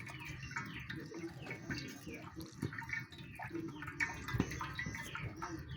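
Whey from fresh mozzarella curds, made from milk and vinegar, drips and trickles through a kitchen strainer, a soft, uneven splashing close by with small pressing noises.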